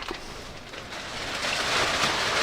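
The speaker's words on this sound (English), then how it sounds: "Oh, here comes the rain again." Rain falls outdoors during car repair work, a soft, broad hiss that swells steadily louder over a couple of seconds with no voices.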